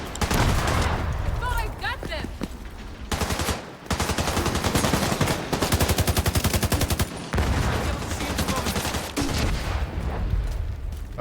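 Automatic weapons fire in The Division 2, loud rapid bursts of gunshots running almost continuously, with brief gaps between long volleys.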